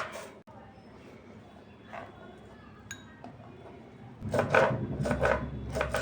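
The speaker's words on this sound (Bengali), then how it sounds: "এবার আমি পেঁয়াজটাও খুব ছোটো ছোটো করে কেটে নিচ্ছি, যতটা ঝিরিঝিরি করে কেটে নেব।" A knife chops an onion finely on a board, soft sparse cuts at first, then a burst of quick rhythmic chops close by toward the end.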